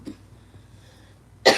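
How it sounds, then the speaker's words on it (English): A single short, loud cough bursts out near the end after a quiet stretch, close to the microphone, with no talking. "I just started coughing."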